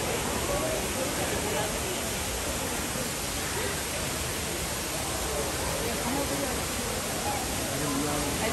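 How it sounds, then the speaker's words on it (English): The waterfall at the Montreal Biodome roars as a constant, dense broadband rush of falling water, loud and unbroken throughout with no distinct events standing out. "He really likes the waterfall."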